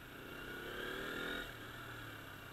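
A KTM Duke 125 motorcycle engine runs at gentle throttle on a rough road, giving a faint, steady low drone that swells briefly mid-way and then settles back.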